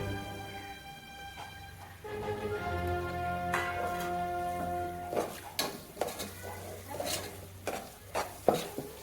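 Spice powders, Kashmiri chilli among them, sautéing in a pan for cooker biryani: a soft sizzle with a spoon stirring, then sharp scraping clinks against the pan in quick bursts toward the end.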